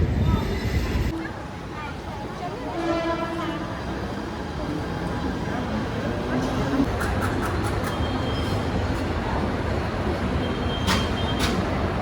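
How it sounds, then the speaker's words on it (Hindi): A rumbling local train approaches a busy platform at Andheri station, its broad roar swelling amid crowd chatter and a few high metallic squeals. "तो सामने से मेरी लोकल ट्रेन आ रही है"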